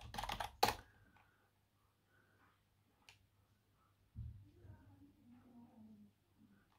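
Fingers type a password on a computer keyboard in a quick, close burst of clicking keystrokes, followed by a few scattered faint taps and quiet room noise.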